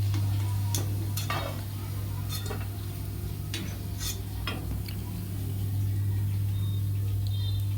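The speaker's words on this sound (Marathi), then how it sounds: "हे बघा तळून किती छान पॉपकॉर्न फुलून मोठे होत आहे" Popcorn fries in hot oil as a snack for fasting, making scattered irregular pops and crackles over a steady low hum.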